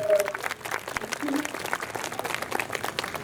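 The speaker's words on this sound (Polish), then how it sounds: "brawa dla Joanny" Applause from a panel audience at a Polish diaspora event, a steady patter of clapping filling the room with voices talking faintly underneath.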